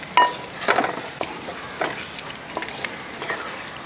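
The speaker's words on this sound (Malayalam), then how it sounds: "അപ്പോൾ അത് കായപ്പൊടി ഇട്ടതിന് ശേഷം ഒന്ന് ഇളക്കി കൊടുക്കുക" Dates and grape pickle with asafoetida being stirred in a pan, soft frying sizzle with a series of brief spoon scrapes and light clinks close by.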